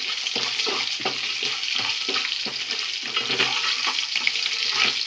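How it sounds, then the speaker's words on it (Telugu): Peanuts and green chillies are stirred with salt in a pan for lemon rice, rapid rhythmic scraping strokes over a loud, continuous sizzling hiss close by. "మంచిగా ఉప్పు వాటికి పల్లీలకి పచ్చిమిరపకాయలకి మంచిగా వడ్డేటట్టు మంచిగా మిక్స్ చేసుకొని"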